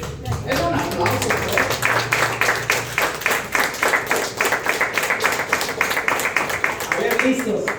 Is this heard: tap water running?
no